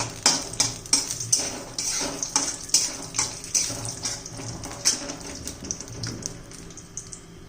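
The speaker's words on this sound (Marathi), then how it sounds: "कढईमध्ये तेल घालून घेतलेलं आहे आणि प्रथम खोबरं भाजून घेते" A metal spatula scrapes and clanks against a wok in a quick, repeated rhythm while coconut roasts in oil, with a soft sizzle of oil underneath.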